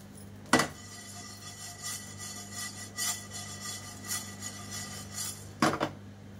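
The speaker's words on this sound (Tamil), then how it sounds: "ஃபஸ்ட்டு இதெல்லாம் ட்ரை ரோஸ்ட் பண்ணி வறுத்து எடுத்துக்கலாம்." Spices being dry roasted in a pan for tamarind rice powder, with a few sharp metal scrapes and clinks of a spoon against the pan over a quiet steady background, no talk.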